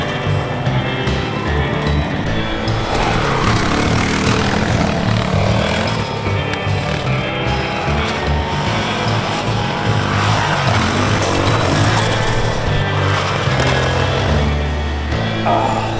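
A Honda CRF450RL dual sport motorcycle rides past, its engine a loud, continuous roar that swells and fades over the run.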